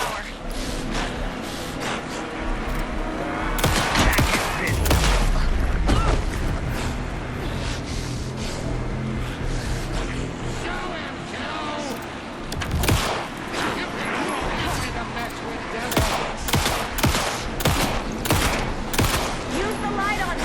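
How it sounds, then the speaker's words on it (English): Dense bursts of gunfire in the video game Alan Wake 2, rapid volleys and heavy booms, with voices shouting over the continuous shooting. "Anderson, pin him down with gunfire for me to get the light on him."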